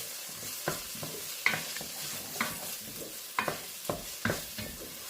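Tomato paste is stirred and toasted in a hot pan, with a soft continuous sizzle and a handful of scraping spoon strokes at uneven intervals, close and fairly quiet with no talking.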